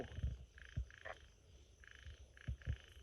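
Frogs croak in a string of short, repeated bursts, some grouped in quick pairs, fairly close and clear over steady outdoor night ambience, heard while setting frog-baited hooks.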